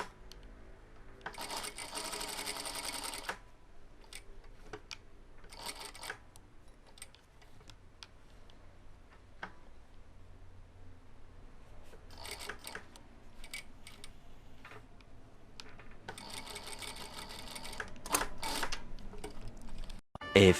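A sewing machine stitches a shirt collar backed with thick, stiff interfacing, its motor whirring in several bursts with mechanical ticking between runs, close and fairly quiet with no talk.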